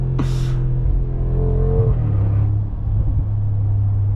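A deep Mercedes G63 AMG V8 engine (2025 facelift) revs up hard, its rising roar holding strong before easing back to a lower, steady rumble.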